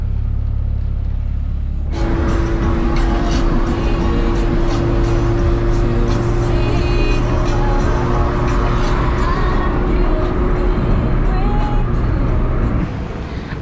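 A car that has sat unused for a couple of months, running steadily with a low engine rumble and a constant hum, loud and close throughout, the sound settling slightly near the end.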